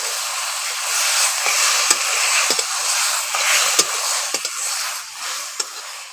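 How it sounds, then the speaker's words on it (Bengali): Boiled taro stems are stir-fried with spices in a pan, giving a steady bright sizzle with repeated scraping and tapping of the stirring spoon. "মশলার সঙ্গে কচু ডাঁটাকে একটু ভালো করে কষিয়ে নিচ্ছি"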